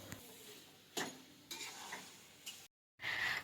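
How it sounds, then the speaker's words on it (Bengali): Shrimp and cabbage curry cooks in a pan, giving a soft sizzle with short scraping stirs and utensil clinks, then a brief silence before the sizzle returns louder. "মা এদিকে এখন রাতে রান্না করছে চিংড়ি মাছ দিয়ে বাঁধাকপির তরকারি"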